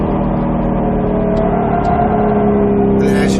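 Roush Mustang RS3 engine pulling hard on a track at Speed Vegas, a loud, close, continuous drone that rises steadily in pitch under acceleration.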